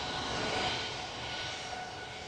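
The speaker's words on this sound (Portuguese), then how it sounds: "Ali atrás a gente vê o Legacy, que é um avião de menor porte" A Legacy small jet aircraft's engines give a steady, broad roar with a faint whine, heard at a moderate distance on an airport apron, with no voices.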